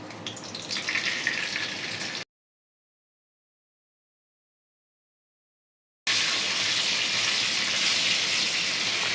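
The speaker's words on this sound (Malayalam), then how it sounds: "ഇത് എണ്ണയിലാണ് വാട്ടിയെടുക്കുന്നത്" Ennai kathi brinjal sautés in oil in a pan, a bright, steady crackling sizzle heard close up, broken by a stretch of complete silence before the frying resumes louder.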